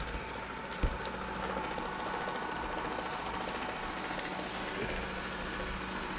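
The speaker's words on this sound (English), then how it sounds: "That noise you hear is my vacuum cleaner." A small robot vacuum cleaner runs in a home, giving a steady whirring drone with a single sharp click near the start.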